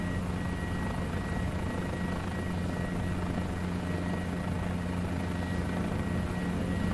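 Guimbal G2 helicopter in Microsoft Flight Simulator 2020, main and tail rotors thumping in a steady, continuous drone with an engine whine, loud and unbroken throughout, with no talk.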